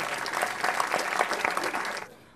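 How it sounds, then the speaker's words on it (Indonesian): Audience at a stand-up comedy show breaks into dense, steady applause for about two seconds, then the clapping cuts off abruptly. "Beri tepuk tangan untuk Dr."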